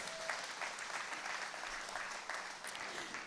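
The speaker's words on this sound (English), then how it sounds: "Let's give her a round of applause." Audience applause at an International Women's Day celebration held by a party women's arm, a steady, dense round of clapping filling the whole stretch at moderate distance, with no lull.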